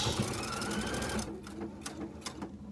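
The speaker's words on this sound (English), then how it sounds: "I'm going to hit stop and allow it to finish the stitch" A Husqvarna Viking sewing machine running with a Spanish hem foot, whirring steadily at close range, then slowing to finish the stitch with a few soft clicks and taps.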